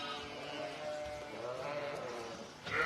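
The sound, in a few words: sheep bleating on a farm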